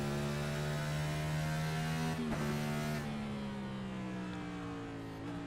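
Race car engine held near redline at about 9,000 RPM, a dense, steady, buzzing harmonic drone with a brief pitch dip just past two seconds and another near the end, over constant hiss.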